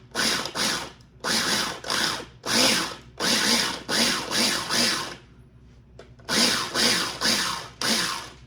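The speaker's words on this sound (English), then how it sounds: "So to my little food processor, we are going to give this a rough chop on pulse." A small food processor chops ingredients for a dip on pulse, seven or eight loud whirring bursts about a second long each, separated by brief pauses.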